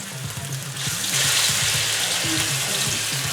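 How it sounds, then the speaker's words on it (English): Beef sizzling in a hot pan, a steady broadband hiss that swells louder after the first second and holds, with a low voice-like murmur underneath. "So you're gonna start hearing The sizzle? the sizzling of the meat."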